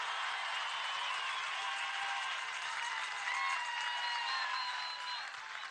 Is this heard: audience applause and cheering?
yes